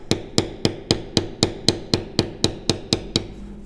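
Mallet strikes on a bevel tool while tooling a floral pattern in leather: twelve evenly spaced, sharp knocks at a steady rhythm, close and loud with no talk.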